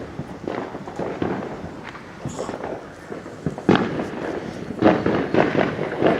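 Fireworks burst outdoors in an irregular string of sharp bangs and crackles, some louder and closer, others fainter, with several heavy pops near the end.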